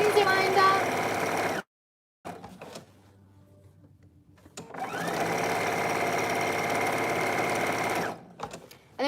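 A domestic sewing machine stitches the seams of a shift dress in two bursts of rapid, whirring motor noise, separated by a pause of near silence with faint handling sounds and a short final burst, close and clear.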